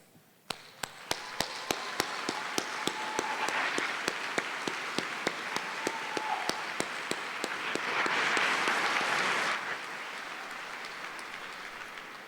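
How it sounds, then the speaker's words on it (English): Applause from a graduation crowd for forestry and environmental resources graduates, dense sustained clapping lasting about ten seconds with sharp regular loud claps standing out near the front before it fades. "one more round of applause for all the graduates of the Department of Forestry and Environmental Resources"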